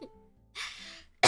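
A single short cough, close and fairly loud, heard alone in a quiet room, followed by a second sharp burst at the very end.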